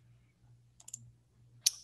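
A few quick clicks of typing on a computer keyboard while entering a web search, close and quiet: a short cluster of keystrokes followed by one sharper click, over a low steady hum.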